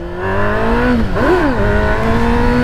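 Yamaha XJ6 motorcycle engine running steadily while riding down a narrow street, a loud close drone with a brief rise and fall in revs midway, no talking.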